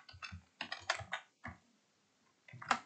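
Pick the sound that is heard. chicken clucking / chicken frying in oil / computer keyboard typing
computer keyboard typing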